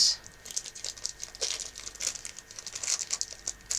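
Silk clay is peeled out of a small plastic bag, giving soft close crinkles and crackles of plastic in irregular bursts, fairly quiet.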